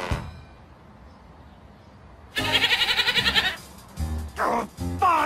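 A goat in the Ed, Edd n Eddy video game gives a loud, wavering bleat lasting about a second, followed by a few shorter bleats, close and clear with no talk over it.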